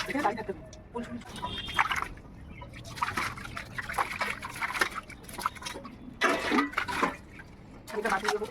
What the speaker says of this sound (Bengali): বাসন মানে মাজা হয়ে গেছে এবার ধোয়া ধুই করছে